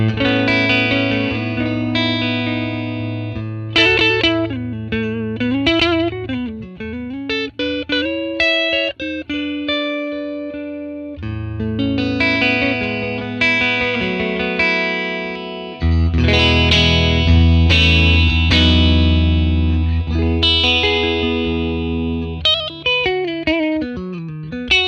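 A Les Paul electric guitar on its neck pickup plays through a Fender 1957 Tweed Bassman amp model, with melodic phrases, bends and sustained chords ringing out loud and close, with no talking.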